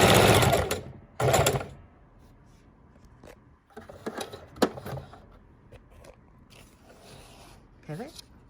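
Two short, loud bursts of a sewing machine stitching a fabric journal cover open the passage, followed by quieter clicks, fabric handling and a brief voice.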